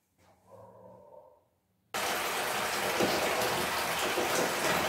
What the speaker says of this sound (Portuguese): Ó, tá enchendo o meu balde.